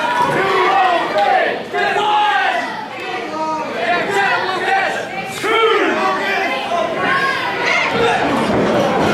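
Crowd noise at an independent pro wrestling show, the CTWE Bethany Battle 2012 between Rhett Titus and Lukas, with a loud, steady mass of cheers, shouts and chatter.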